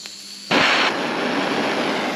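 A torch flame heats the exhaust bushing on a Vittorazi Moster 185 paramotor, bursting in loud after a quiet start and holding as a steady roaring hiss.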